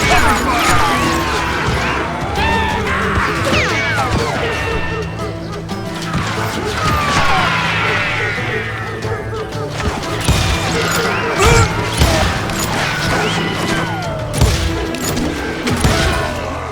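Gunfire during a gunfight in the Western video game Call of Juarez: Gunslinger, repeated sharp shots and crashing impacts over continuous battle noise, with voices shouting through it.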